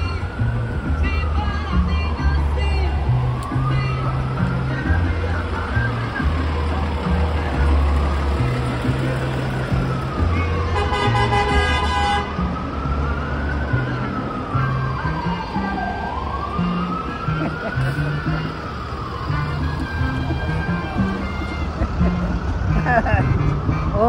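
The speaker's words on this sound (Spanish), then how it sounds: "el tráfico de Nueva York" Heavy traffic in Washington Heights and Inwood, New York City, during a vehicle caravan: a loud emergency siren wails up and down repeatedly over a low engine rumble, a horn blares midway, and voices talk underneath.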